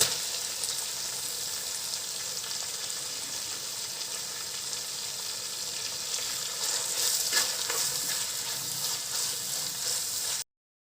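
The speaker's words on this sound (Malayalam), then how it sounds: "കുറച്ച് വേപ്പിൻ്റെ കൂടി ഇതിലേക്ക് ഇട്ടിട്ട് നന്നായിട്ട് വഴറ്റിയെടുക്കുക." Crushed onion sautés in a pan for catfish curry, a close, steady hiss and crackle with light stirring, growing a bit livelier before cutting off abruptly near the end.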